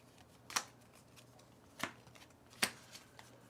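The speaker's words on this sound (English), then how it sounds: "Draw card A04." A playing card is drawn from a deck during a tabletop game, giving three short, crisp papery snaps spaced apart, fairly close and quiet, with no one talking.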